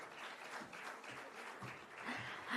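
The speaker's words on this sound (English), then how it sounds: "Please keep the claps going, everyone." An audience at a 2024 architecture and interior design awards ceremony keeps up sustained applause, a steady wash of many hands clapping at moderate volume.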